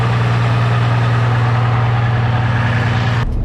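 A truck nicknamed Low and Slow idles steadily while warming up before hauling a tractor, a loud, even low drone with a constant hum that cuts off sharply near the end.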